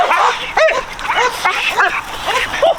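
A small, fiery dog named Maven barks and yips excitedly while being teased, with a rapid series of sharp, close barks and whimpers in an irregular rhythm.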